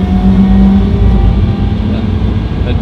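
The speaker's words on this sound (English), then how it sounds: "That diff whine is just so cool" A track-spec BMW E92 M3 drives with its differential whine, a steady tonal drone over a low engine rumble, close and loud inside the car.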